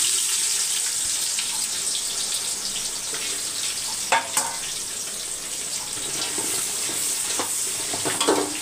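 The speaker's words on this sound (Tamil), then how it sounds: "நான் வந்து தேங்காய் எண்ணெய் ஊற்றிருக்கேன். இப்போ வெங்காயம் வந்து வதங்கட்டும்." Onions fry in coconut oil in a pan seasoned with cumin, cinnamon, cloves, bay leaf, stone flower and cardamom, giving a steady, close sizzle with occasional stirring clatter.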